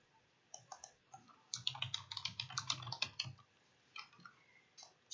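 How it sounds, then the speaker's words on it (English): Rapid typing on a computer keyboard entering text, a steady run of close, crisp key clicks with a few scattered taps before and after, no voices. "Just type whatever you want to type"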